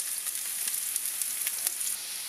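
Onions browning in a pan make a continuous bright crackling sizzle with tiny spitting pops, fairly close and steady, no voices.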